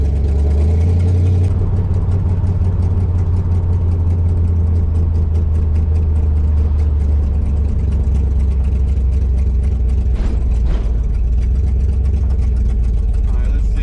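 A 1968 Dodge Charger R/T V8 with an exhaust leak, carburetor being compared, rumbles steadily and loud while driving, a deep continuous drone with slight rises and dips throughout.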